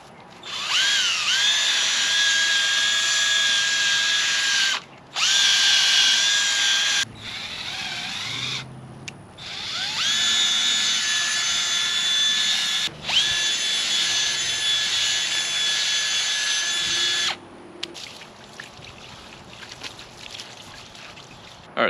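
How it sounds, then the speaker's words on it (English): A power drill with a scrub brush attachment cleans the wheels of a 2006 Volvo XC70, running in loud, high whirring bursts of several seconds each, separated by brief pauses, with faint background noise. "scrub brushes and stuff to go on our drill here"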